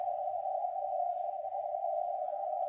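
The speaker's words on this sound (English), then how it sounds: "Oh, it's Morse code, eh? Yeah, I hear it. I hear the Morse code," A Morse code CW signal from a shortwave station on 5778 comes through a radio receiver as one loud, steady, unbroken beep-like tone over a faint hiss, with no audible keying gaps or voices.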